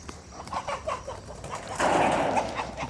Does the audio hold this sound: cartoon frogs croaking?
no